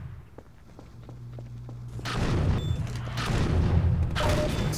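Loud explosion in Half-Life 2 Episode One, a deep booming blast that erupts at about two seconds after quieter thuds and mechanical clanks, followed by a sustained rumble and a second burst of debris noise.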